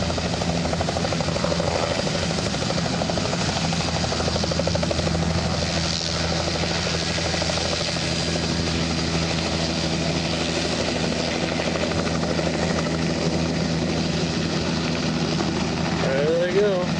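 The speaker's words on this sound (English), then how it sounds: "Get to the chopper!" A helicopter runs loudly throughout, a steady droning engine and rotor thump heard near, with speech picked up under the noise.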